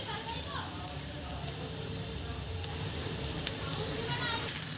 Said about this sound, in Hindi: हम प्याज को ज़्यादा नहीं भूनेंगे